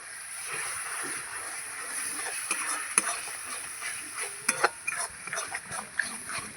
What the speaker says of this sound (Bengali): এটাকে কিন্তু অনবরত নাড়িয়ে যেতে হবে